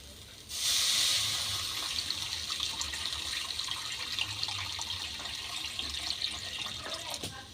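Water pours into a pan of mustard paste curry, a sudden hissing splash that starts loud, then settles into a steady rushing stream close by, with faint clinks near the end.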